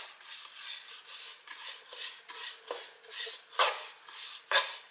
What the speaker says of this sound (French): je vais venir tout simplement badigeonner légèrement le grill d'un petit peu d'huile d'olive